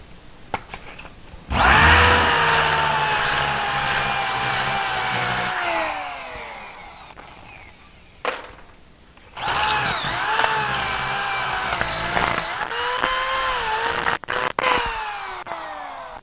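Power drill turning a half-inch reamer through a metal engine mount for a BMW 2002 K24 swap, two long loud whining runs with speed changes, separated by a pause and brief clunks.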